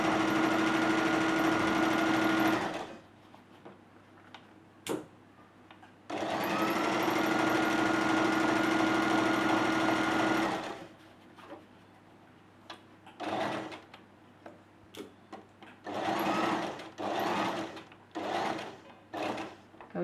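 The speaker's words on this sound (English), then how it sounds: "Once you come to the edge of the fabric, no need to sew anymore." A sewing machine stitches fabric for a sleeve dress, running in long steady bursts, then in shorter start-stop runs with pauses between them, close and loud, with no talking.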